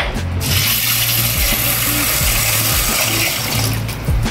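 Soaked sabudana is washed in several changes of water in a pot: close, continuous sloshing and pouring water with gritty rattles of the grains, fairly loud, alongside a steady low hum.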